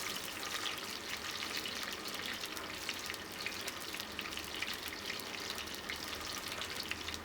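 Curry vadagam and fenugreek seeds splutter in hot oil in a clay pot, a steady dense crackle and fizz at moderate level with tiny pops throughout, and no voices.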